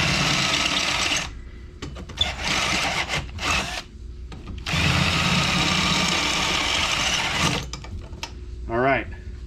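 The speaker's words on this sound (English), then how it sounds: "All right, so I just drilled to where it barely touched it." A drill bores into the manual window regulator of an Isuzu Trooper in bursts of whining motor noise, with short pauses between runs and a brief squeaky scraping near the end.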